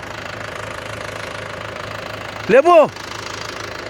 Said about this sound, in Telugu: ఇగో ట్రాక్టర్ వేసేస్తున్నాను